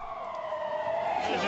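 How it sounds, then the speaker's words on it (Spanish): A police siren wails in a street of an old European city during a protest, loud and near, its tone sweeping and rising over the street noise. "una banda sonora habitual que completan las sirenas policiales"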